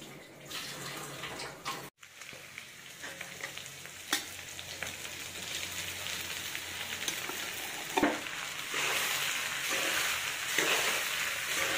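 Sabudana (sago pearls) bubbling and sizzling in a hot pan, a steady close hiss and crackle with a few sharper pops and a brief dropout, no voices.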